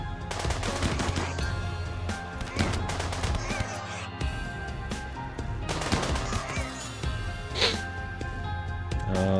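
Machine pistols fire in RimWorld, producing repeated rapid bursts of clattering gunshots in several volleys, with occasional game sounds between them.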